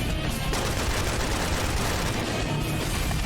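Rapid, dense gunfire fills the first-person shooter Serious Sam, a loud continuous fusillade of overlapping shots and booms with no pause throughout.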